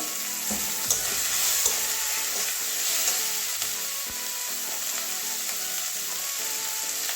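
Cumin seeds frying in hot oil in a pan for a Bengali soybean and cauliflower curry, a steady close crackling sizzle with occasional spoon scrapes and stirring clinks, no voices.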